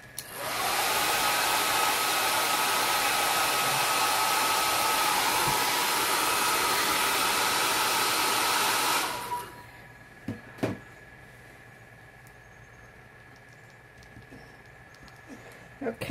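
Hair dryer blowing on acrylic paint, a loud steady whooshing hum for about nine seconds, then it switches off, leaving a quiet room with a few small knocks.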